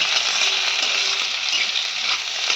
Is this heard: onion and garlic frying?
yes